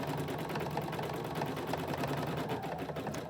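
An embroidery machine stitches an appliqué in a fast, even, continuous mechanical whir with rapid needle ticking, steady and fairly quiet throughout.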